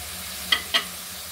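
Two quick scraping stirs of spices frying in a pan for hilsa fish curry with potato, with turmeric, chilli and coriander powder, each short and crisp over a faint low background.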